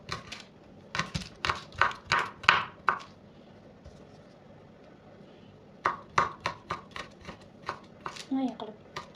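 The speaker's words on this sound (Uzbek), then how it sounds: "Mana qilib to'g'rab olamiz." Knife chopping onion and garlic on a board for a beet salad, a run of sharp, close taps in two bursts with a pause between them, under quiet kitchen background.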